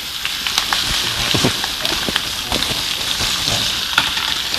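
Greens wilting in a hot tilt skillet crackle and sizzle continuously, with sharp pops and spits scattered throughout and a steady hiss underneath; no one speaks.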